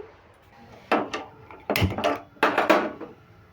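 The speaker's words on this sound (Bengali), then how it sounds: "এবার কড়াইটা বসিয়ে দিলাম" A kadai wok set on a lit gas stove while preparing pea-pod fritters, heard as three or four close metallic clunks and scraping knocks in quick succession.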